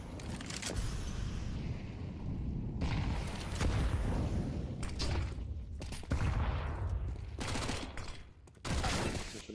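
Counter-Strike match gunfire from a MAC-10 in a pro league game, heard as loud rapid bursts and booms over a constant rumble, with shooting stacked densely and near throughout under caster commentary.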